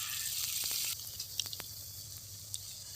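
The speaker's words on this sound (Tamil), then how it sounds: "எண்ணெய் நல்லா சூடாயிட்டுங்க. இது கூட நம்ம கருணக்கிழங்க சேர்த்துக்கலாங்க." Elephant foot yam pieces frying in hot oil for a village-style dish, a steady close sizzle that drops in intensity partway through, with a few soft clicks and stirring taps.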